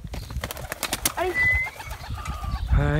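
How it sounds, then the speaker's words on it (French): Pigeons at a breeding loft coo softly nearby amid a brief flutter of wings as they head onto the roof, with other bird calls and faint background voices around them. "pigeons qui vont sur le toit."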